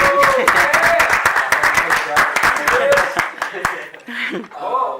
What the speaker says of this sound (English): we're going to clap you up anyway